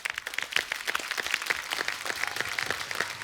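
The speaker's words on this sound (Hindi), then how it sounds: "आपके लिए पहले तो तालियां।" A studio audience on a comedy talk show claps for a karate gold medalist from the Commonwealth Championship. The applause is soft and distant, a steady patter of many hands with no talk over it.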